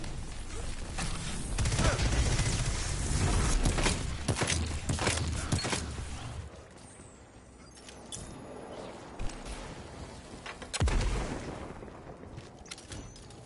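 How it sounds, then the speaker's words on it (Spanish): Gunfire in the video game Destiny 2 crackles in rapid bursts and volleys, denser and louder early on, then sporadic sharp shots with mechanical clicks and creaks in between. "¿Qué pedo con esos disparos?"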